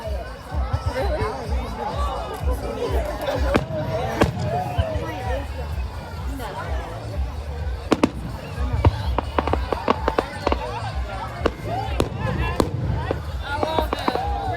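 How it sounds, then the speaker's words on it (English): Fireworks burst over a crowd at an outdoor Red, White and You celebration, with repeated sharp bangs and crackles spread through the clip amid busy crowd chatter and nearby voices. "I wish fireworks were quiet."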